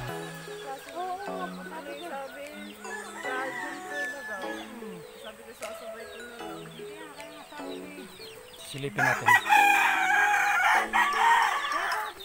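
Chickens cluck and chatter nearby, with a rooster crowing partway through and a louder flurry of clucking near the end; a voice briefly speaks.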